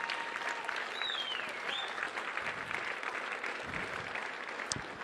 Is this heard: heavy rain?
no